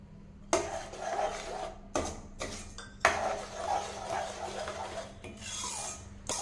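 Sugar goes into thick guava halwa in a pan, with repeated close scraping and rasping strokes of a utensil against the metal, arriving in irregular bursts with short pauses between them.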